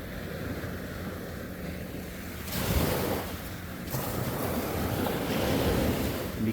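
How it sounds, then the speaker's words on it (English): Ocean waves wash up on a shelling beach, a steady close rush of surf that swells into a louder breaking wash midway and keeps churning, with some wind noise on the microphone. "You look back and sometimes the waves come up"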